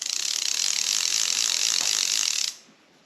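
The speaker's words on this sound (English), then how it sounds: "retrieve and drag sound, because us anglers like to know when a fish is taking line" Greys fly reel's ratchet drag buzzes in a fast, steady clicking run for about two and a half seconds, close and loud, then cuts off abruptly.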